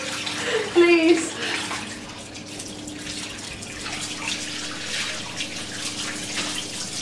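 Water runs from a shower or tap as hair is rinsed while bending over, a steady splashing hiss with a brief louder gush near the start and a voice heard faintly under it.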